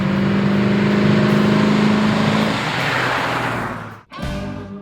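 A 1967 Ford Mustang hardtop engine revs loud and close, holding a steady low droning note for a few seconds before rising, then cutting off abruptly and quickly picking back up.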